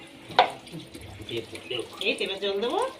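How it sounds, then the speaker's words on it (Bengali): Gentle water trickles and splashes as a baby is bathed, heard under continuous close adult talk. "হালকা জল দাও হালকা হালকা জল দেবো বেশি না"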